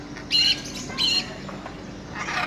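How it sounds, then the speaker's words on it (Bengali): A parrot squawks twice up close, two loud, harsh, piercing calls about half a second apart, followed by quieter background noise. "তোতা"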